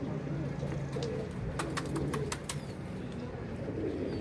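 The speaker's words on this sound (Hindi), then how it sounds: "सारे इधर कबूतर होंगे उस्ताद सबके" Pigeons in a bird loft coo in low, steady murmurs under constant background noise, with a few sharp clicks or flutters in the middle.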